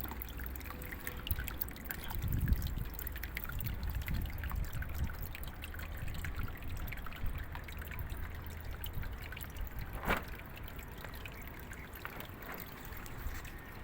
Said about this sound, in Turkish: Gelen sular buradan oluğa dökülüyor.